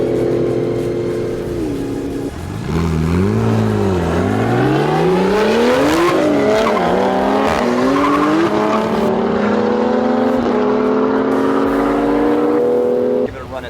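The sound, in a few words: race car doing an acceleration run at an airport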